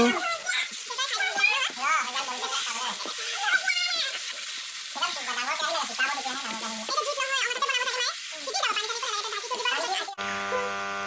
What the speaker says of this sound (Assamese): এয়া দেখিছে মাংখখিনি আধা ভজা হৈ গ'ল